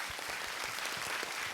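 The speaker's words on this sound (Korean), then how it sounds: "박수 한번 보내주십시오." A lecture-hall audience at a science talk on human relationships breaks into steady, dense applause, close and even in loudness from start to finish.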